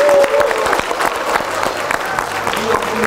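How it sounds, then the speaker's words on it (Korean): A crowd at a political party founding convention applauding, a loud, dense burst of clapping from many hands with some rapid distinct claps near the front, sustained throughout, while a voice can be heard briefly over the start. "이의가 없으시면 힘찬 박수로 의견해 주시기 바랍니다."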